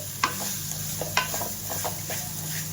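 Tomato rice being stirred in a pan with the stove just switched off, with soft scraping and clinking strokes over a steady faint sizzle and hum in a home kitchen, no voices.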